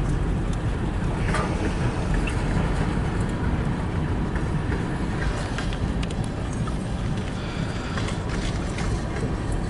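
A CN freight train hauled by four engines moves past in Kimball Township, Michigan, giving a continuous low rumble with scattered metallic clicks and squeals over it, fairly steady in level.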